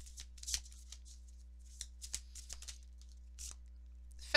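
Oracle cards being shuffled by hand, several short papery riffles and slides in quick irregular bursts, close and fairly quiet over a low steady hum, with no speech.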